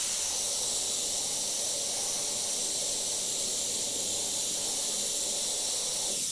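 An airbrush sprays transparent yellow paint in a steady, even hiss that runs unbroken through the whole stretch with no voices.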